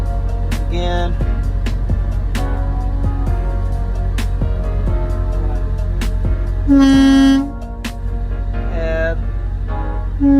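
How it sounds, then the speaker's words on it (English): A truck's air horn, rigged to a carabiner on the cab door so it sounds whenever either door opens, gives one loud, brassy blast partway through over a steady idling rumble and scattered clicks. "the air horn will blow, whether it be the left door or the right door that opens"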